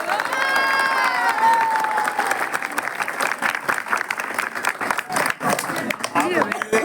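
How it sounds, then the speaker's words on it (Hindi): An audience at a birthday gathering claps loudly and steadily, a dense wash of applause with a few voices and cheers rising above it. "जय जय जय जय ताली बजाओ सब जोर ताली से।"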